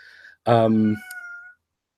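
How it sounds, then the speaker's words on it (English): A pet cat meows once loudly and close by, a drawn-out vocal call followed by a softer trailing chirp, after a brief faint tone and then silence. "You don't need to meow right now because I'm doing a show"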